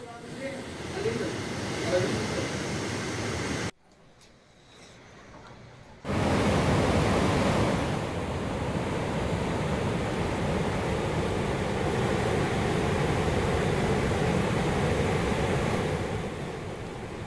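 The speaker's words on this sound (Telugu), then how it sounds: "2 ప్రాజెక్టుల వద్ద ఒక్కో గేటు ఎత్తి దిగువకు నీటిని విడుదల చేస్తున్నారు" Flood water from heavy rains in Adilabad rushes through raised dam gates at the Mattadi Vagu and Satnala projects as a loud, steady roar. It drops out briefly near the start, then returns just as strongly.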